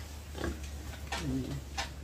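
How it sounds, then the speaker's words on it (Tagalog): A grown farm pig grunts and chews noisily, a few short low grunts and wet chomping sounds close by, brief and fairly quiet. "Nangangain ng bubblegum ang baboy, oh. Nguya ng nguya."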